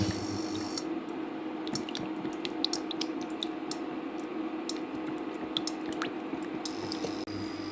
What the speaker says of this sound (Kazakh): Қазанымыз қызды, майымыз құйып жіберейік.